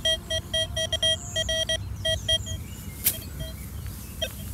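A metal detector sweeping a field gives a run of short, clear electronic beeps in irregular bursts, then a few sparse tones over quiet outdoor background noise, with no speech.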